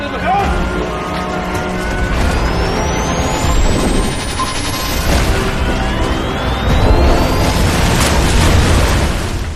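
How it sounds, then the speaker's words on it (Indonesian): A time bomb planted on a robot detonates in a film scene, a dense, loud, sustained roar of blasts and crashing debris layered with rising whistling tones, continuing at full intensity for several seconds. "Yahya telah memasang bom waktu pada Mousa yang kemudian meledak"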